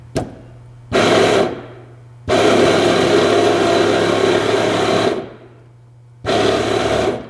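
A methanol injection pump on a turbocharged Ford Ranger being primed, giving loud buzzing whirs in three bursts, the middle one running for about three seconds, with a low hum between them.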